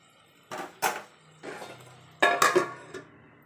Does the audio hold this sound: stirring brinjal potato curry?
yes